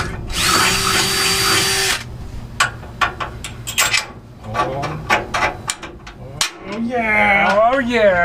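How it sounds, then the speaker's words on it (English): A power drill bores a pilot hole into the steel frame of a Ford F100 truck, whining loudly and steadily for about two seconds, then giving short bursts and knocks, with a voice heard near the end. "drill a pilot hole, get to see where I am"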